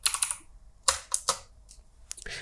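Crisp keystrokes clatter on a computer keyboard, an irregular burst of clicks followed by a few separate taps, close and clear with quiet gaps between.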